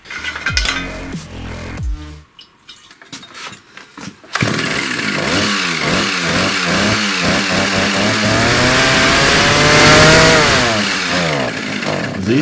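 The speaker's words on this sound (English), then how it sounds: "This chainsaw sounds like a beast." A few pulls of a starter cord, then a Soviet-made chainsaw engine roars to life close up, revving up and down loudly.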